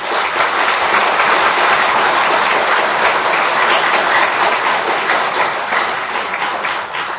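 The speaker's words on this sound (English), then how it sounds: "So let's applaud Britain for his" A lecture audience gives a lecturer sustained applause, a loud, dense wash of clapping that holds steady and thins only slightly near the end.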